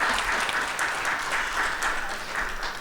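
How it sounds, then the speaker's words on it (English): Steady applause from an audience at an annual organisational event, a continuous even patter of many hands clapping throughout, with no talk over it. "can we clap for them, please?"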